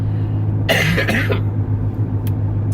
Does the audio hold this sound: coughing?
yes